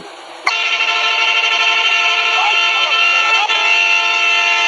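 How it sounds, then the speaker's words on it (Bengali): A bus horn in a multiplayer bus driving game blares as a loud, sustained tonal honk that starts abruptly near the beginning and holds steadily to the end, with no talk over it. "ওই হর্ন লাগাইছে কেডা?"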